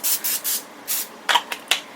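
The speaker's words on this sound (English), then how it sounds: "I'm just going to spray them with some olive oil spray" Olive oil spray hissing onto food before baking, in several short bursts followed by a few sharper rubbing taps, close and fairly loud with no talking.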